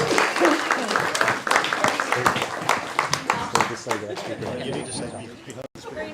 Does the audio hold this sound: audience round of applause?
yes